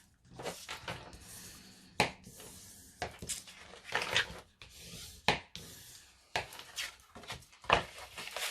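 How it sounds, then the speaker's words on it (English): A folded cardboard crease being burnished, heard as repeated close rubbing and scraping strokes. Each pass is short and comes in an uneven rhythm, with no voices. "Okay, fold and burnish."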